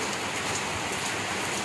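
Heavy morning rain pours down in a steady, dense hiss on surfaces nearby, continuous and fairly loud throughout with no voices over it.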